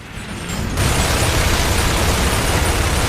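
A grenade blast in the video game Gears of War 2 erupts into a loud, sustained roar of noise that stays dense and heavy, with no voices heard.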